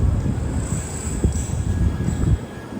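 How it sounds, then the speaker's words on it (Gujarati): Low rumbling of a train moving off nearby, a steady heavy roll with faint wheel hiss and no voices. "અહીંયા મસ્ત ટ્રેન ઉપડી ગઈ છે"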